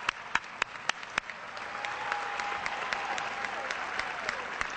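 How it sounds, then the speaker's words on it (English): A few sharp, separate claps open, then a crowd at a Wisconsin political event breaks into steady, sustained applause from many hands, with faint voices mixed in. "Let's give her a big round of applause."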